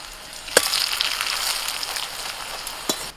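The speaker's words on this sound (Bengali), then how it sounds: "চাউমিনটা ভাজা হয়ে গেলে এবার এটাকে তুলে নেব আমি তেল থেকে।" Boiled chow mein noodles frying in hot oil, a steady broadband sizzle throughout with two sharp clatters or spatters near the start and end, close and fairly loud with no talking.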